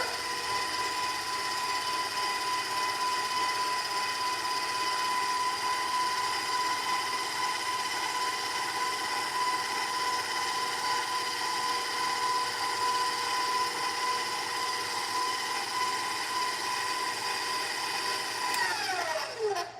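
A pasta machine rolling ravioli dough at setting 4 gives a steady, close mechanical whir with a constant tonal hum for about twenty seconds, slowing and falling in pitch just before stopping.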